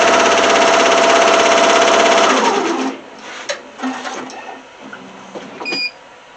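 A sewing machine runs fast stitching red jersey fabric for a plush toy, a loud steady mechanical whir for over two seconds that winds down, followed by quieter clicks and handling noises of the fabric and machine.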